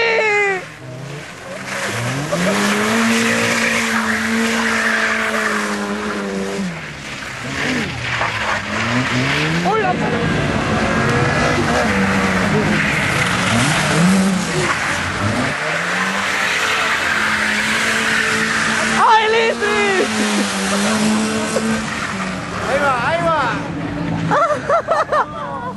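A rally car runs a slalom course at Tineo in 2010, its engine revving hard and rising and falling through gear changes, with tires squealing throughout. Spectators shout and talk loudly over it.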